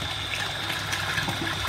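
An electric water pump draws water through its line, giving a steady, continuous watery rush and trickle at moderate level with no speech.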